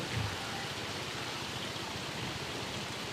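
Rain falls during a rainy-day motorbike ride in Bangladesh, a soft, even hiss of drops that stays constant from start to finish, with no talking.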